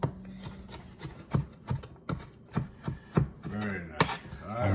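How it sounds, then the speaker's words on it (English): Garlic being chopped with a knife on a cutting board while making Bolognese: a dozen or so crisp, close knocks in an uneven rhythm, ending in a quicker flurry of cuts. "Chop up some garlic here."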